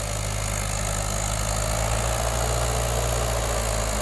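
A Mahindra 575 MKM tractor engine runs steadily and loudly close by, a continuous deep throbbing drone with no talk over it.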